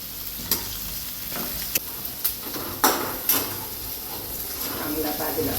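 Chopped onion fries in a pan for masaledar bhendi, giving a constant sizzle broken by sharp scrapes and clinks of a spoon stirring against the metal.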